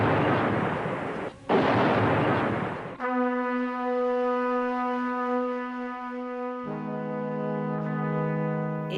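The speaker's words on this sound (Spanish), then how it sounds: "debemos refugiarnos debido a las explosiones que aún continúan" Explosions keep going off across a city. About three seconds of loud, rough blast rumble come first, then a steady, droning harmonic tone holds to the end.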